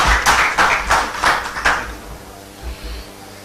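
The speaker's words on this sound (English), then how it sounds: "Please round of applause for Mr. Gaurav Sethi." A short burst of audience applause greets a speaker at a green-themed evening meeting, with a handful of loud, distinct claps that die out within about two seconds, leaving a quiet room murmur.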